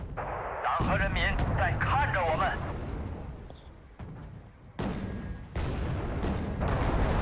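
Recoilless rifle fire in the modded real-time strategy game Wargame Red Dragon: heavy booming blasts and rumbling impacts roll continuously through the clip, loud and dense, with a voice talking over the opening seconds.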